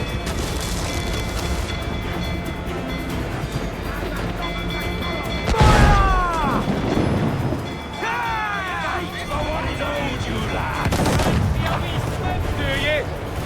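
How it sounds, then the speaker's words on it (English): Booming ship cannon blasts go off amid a busy naval battle din in the video game Assassin's Creed IV: Black Flag, with shouting voices, whistling sweeps and rumbling that swells around two heavy bursts. "To quarters all, man the cannons!"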